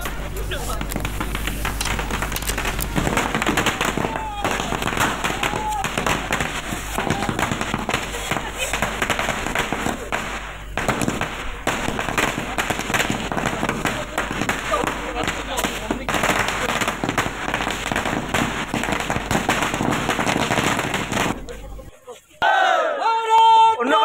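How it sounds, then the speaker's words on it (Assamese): Rapid strings of firecrackers crackling and popping nonstop amid a cheering, shouting crowd of BJP party workers celebrating Rajya Sabha nominations, loud and close, ending abruptly near the end. "ফটকা ফুটাই আনন্দ উৎসৱ দলীয় কৰ্মীৰ"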